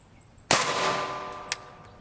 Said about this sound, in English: We'll fire this from our 16-inch barrel since they're subsonic and won't make much of a difference.